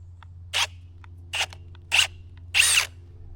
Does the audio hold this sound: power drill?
yes